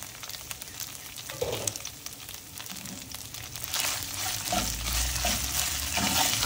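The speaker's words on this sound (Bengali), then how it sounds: "আদা ফ্রাই হয়ে এসছে।" Ginger frying in a pan and being stirred, a steady crackling sizzle with scraping and rustling stirs, growing louder and busier toward the end.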